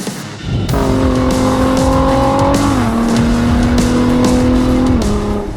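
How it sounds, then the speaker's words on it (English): A Ford GT sports car drives hard with loud, sustained tire squeal, the pitched screech holding steady then dropping as the engine roars beneath, close and dominant with no talking. "This is the Ford GT"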